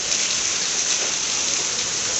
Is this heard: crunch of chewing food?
no